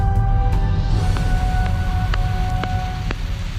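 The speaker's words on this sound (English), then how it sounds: "It's alive with cosmic noise, a constant barrage of galactic white noise." Constant broadband hiss of cosmic radio noise, a steady galactic white-noise static with faint tonal lines and occasional soft clicks, loud and continuous throughout with no voices.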